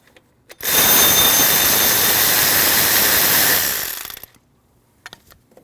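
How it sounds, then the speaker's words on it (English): A power tool removes a 12 millimeter bolt on a 2012-2016 Honda CR-V 2.4L during serpentine belt tensioner work, giving one loud, close, continuous whir of about three and a half seconds that stops abruptly, followed by a few light clicks. "Remove this 12 millimeter bolt here."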